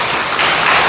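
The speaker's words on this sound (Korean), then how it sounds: "어르신들에게 다시 한번 박수 올려드리겠습니다" Church congregation claps for its elderly members during a Sunday service, a brief, dense burst of applause that is loud and close.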